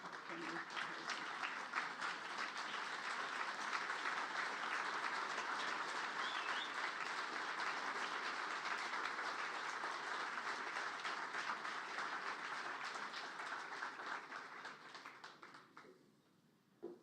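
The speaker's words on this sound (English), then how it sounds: "I think it deserves a standing ovation." At an award ceremony held during a law-of-war conference, an audience gives a standing ovation. Dense, steady applause fills the hall for about fifteen seconds, then fades out.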